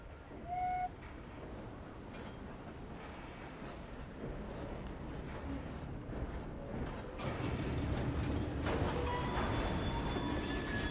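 A train in Assassin's Creed Syndicate rumbles along with steady clattering that grows louder toward the end, with faint squeaks over the continuous noise.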